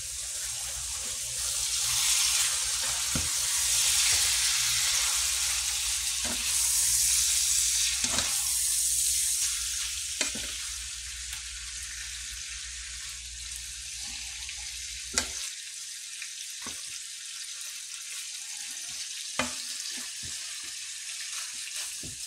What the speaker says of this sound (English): We're going to sear our meat, flip it, sear again.